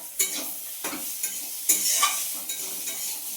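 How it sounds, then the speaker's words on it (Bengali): Potatoes fry in a pan with a soft continuous sizzle, broken by several spoon stirs and scrapes at irregular intervals, close and fairly quiet with no talking. "এটা হচ্ছে আলুর ভাজা"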